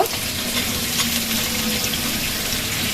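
Oil and chili frying in a pan for a loitta shutki (dried Bombay duck) curry, giving a steady, dense sizzling hiss that holds evenly throughout, close and fairly loud with no voices.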